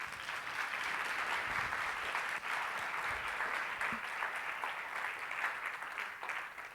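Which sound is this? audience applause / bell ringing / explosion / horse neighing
audience applause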